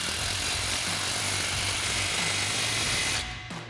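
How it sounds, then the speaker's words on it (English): An impact wrench with a 15 mm socket tightens an exhaust clamp on a Ford F-150 dual exhaust install, a loud continuous buzzing whir that cuts off near the end, followed by a brief rattle. "tighten down this clamp with our 15 mil socket on our impact"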